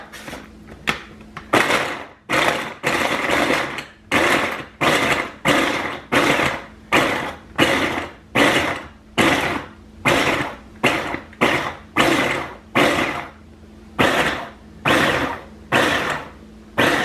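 A food chopper whirring in repeated short loud bursts, about two dozen pulses with brief gaps between, close by, chopping vegetables for ham and bean soup, with no talking.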